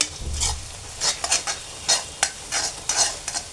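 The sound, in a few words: stirring and crumbling scrambled egg in frying pan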